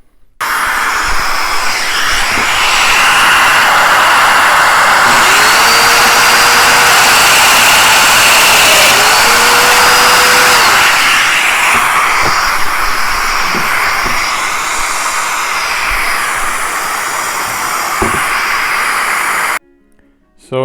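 A Festool power tool cuts mortise and tenon joints in rough boards in a workshop. The motor gives a loud, sustained roaring whir that runs nearly the whole time, then cuts off abruptly near the end.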